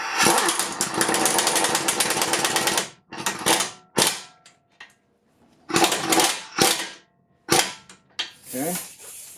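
Impact wrench running a nut down onto a ball joint on a 2008 Acura MDX front suspension, several loud, rattling bursts of hammering, the first long and steady, the rest short and broken by pauses.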